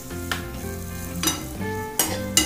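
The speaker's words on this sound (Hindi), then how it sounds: "चिंग्स चावल का तड़का" Hot oil sizzles steadily in a pan as rice is tempered, with a few sharp bursts of crackling and stirring scrapes over a low background hum.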